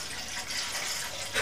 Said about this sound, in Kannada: ಅದಕ್ಕೆ ಈ ಸ್ವಲ್ಪ ತೆಳುವಿನ ಕಾಯಿ ಹಾಲಿದೆ ತೆಗೆದದ್ದು ಅದನ್ನು ಹಾಕ್ಕೊಳ್ಳುವ